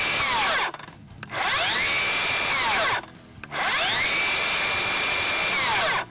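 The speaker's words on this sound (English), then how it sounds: "I want you to hear electronic brake first." A Milwaukee cordless rear handle circular saw whines at full speed, then its electronic brake stops the blade abruptly; this repeats twice, loud and close, with brief quiet gaps between runs.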